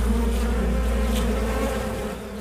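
Bees buzz near their hive in a thick, continuous hum with a strong low drone, loud and close, easing off slightly at the end, no talking.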